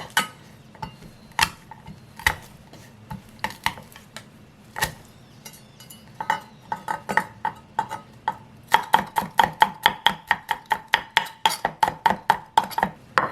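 Green onion and garlic are chopped with a knife on a board, sparse taps at first, then a quickening run of sharp, evenly spaced close chops.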